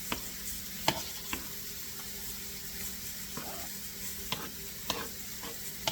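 Macaroni with ham and mushrooms is tossed in a hot pan, a continuous soft sizzle broken by sharp scrape and clack transients from the utensil and pan every second or so, close and steady throughout.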